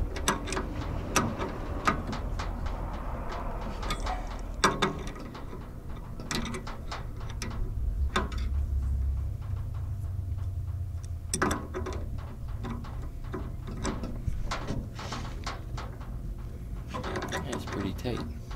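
An adjustable wrench ratchets and clicks as it tightens connections on a 3000-watt pure sine wave solar inverter. Irregular metallic clicks and scrapes repeat close by over a low background hum.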